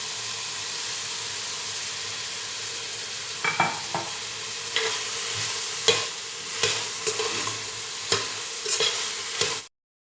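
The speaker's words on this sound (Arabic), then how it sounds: "رح قلي البصلة مع اللحم شوي تتقلى معه وتدبل البصلة" Onion and meat frying in a pan for Lebanese lubia bi lahmeh, with a steady close sizzle and a run of sharp scraping clicks as a spoon stirs the pan, ending abruptly.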